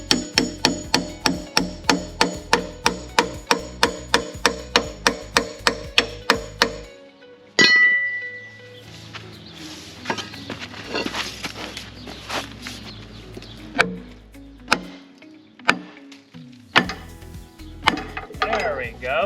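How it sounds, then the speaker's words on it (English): Hammer blows striking the front pulley and balancer on a Cummins ISX engine, starting as a fast, even run of sharp metallic strikes, then continuing as scattered, irregular knocks and clanks. "Hammer back here."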